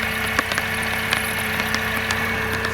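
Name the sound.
Mercedes C180 W203 M271 Kompressor engine idling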